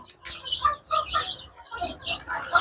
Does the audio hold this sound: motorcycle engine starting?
no